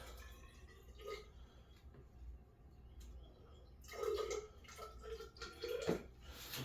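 Water being poured into a steam distillation setup with blueberries, about 150 millilitres added, giving faint splashing and trickling bursts after a quiet start.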